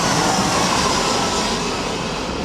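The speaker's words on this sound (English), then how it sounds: "That's definitely an EasyJet flight." Jet airliner with two engines passing overhead, a loud, steady broadband roar that holds through the whole stretch and fades only slightly toward the end, with no voices.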